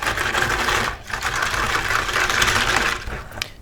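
An electric whisk whirs steadily and loudly while it beats vanilla custard in a bowl, a dense, even buzz that dips once briefly; no talking.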